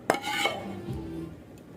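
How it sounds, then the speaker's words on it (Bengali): A spatula scraping raw mango pulp across an oiled plate, a short metallic clank followed by a soft smear, close and brief, no speech. "এবার খুন্তি দিয়ে থালাটা এরকম ঘুরিয়ে চারিদিক ছড়িয়ে দেবো"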